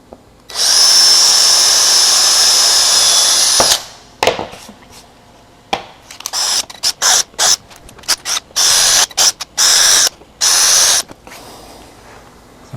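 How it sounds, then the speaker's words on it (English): A power drill bores small holes in acrylic sheet, starting with one long, loud, steady whine and then moving into many short, sharp bursts as the trigger is pulsed. "drill small holes to begin with."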